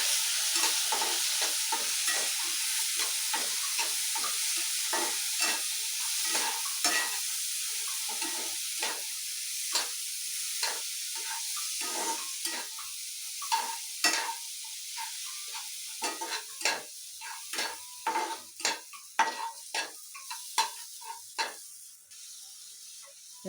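Washed semolina is stirred and roasted in ghee in a pan, a steady soft sizzle carrying a continuous run of scraping spoon strokes that grow more distinct and rhythmic toward the end, close and fairly quiet.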